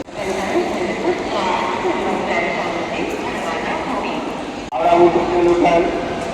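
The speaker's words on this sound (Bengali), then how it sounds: "হাওড়া স্টেশনের পুরনো পার্ট যেটা, সেটা দিয়ে আমরা ঢুকেছি" Busy station ambience in the old part of Howrah Station, Kolkata: a steady crowd and rail hubbub, with a brief dip near the end before the noise returns louder, and speech mixed into the din.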